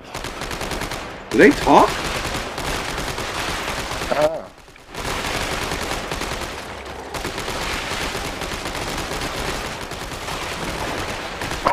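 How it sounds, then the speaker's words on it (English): Sustained machine gun fire in the video game Dead Space 3, a loud continuous rattle of rapid shots with one brief pause, a voice speaking briefly over it. "I gotta use some of this fucking machine gun ammo"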